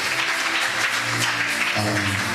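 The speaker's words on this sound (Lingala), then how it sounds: "Si tu le crois, nous acclamons encore" A church congregation applauds, steady dense clapping from many people that continues throughout, with a sustained voice or music faintly beneath.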